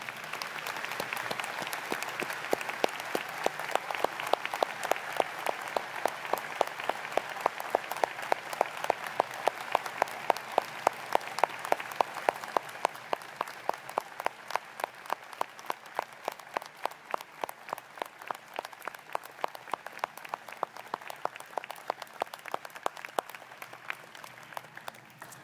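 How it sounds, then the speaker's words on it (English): A seated audience at an academic ceremony gives a long, steady round of applause, a dense wash of clapping with a rhythmic beat that swells early, holds strong and slowly tapers off near the end. "Let's give him a round of applause, please."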